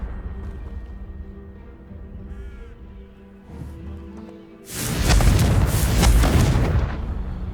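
In Hogwarts Legacy, a Confringo fire spell goes off after a quiet stretch of low ambient hum, bursting into a loud, broad roaring blast that carries on for about three seconds.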